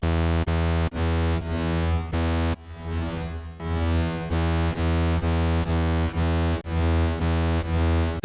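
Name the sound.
saw wave through diffusion delay plugin while tweaking knobs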